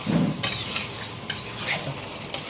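Spices with nutmeg and shahjeera are stir-fried in a pan, a soft sizzle under repeated scraping and clinking of a utensil against the pan, close by.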